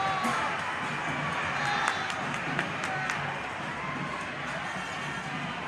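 Steady crowd roar fills a basketball arena at a league finals after a game-tying shot, with cheering, clapping and scattered shouts; a commentator's voice sits faintly under the noise.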